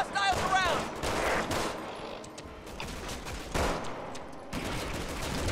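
Gunfire in the video game Resident Evil 6, a series of sharp shots, some in quick bursts, mixed with game sounds and a voice talking through it.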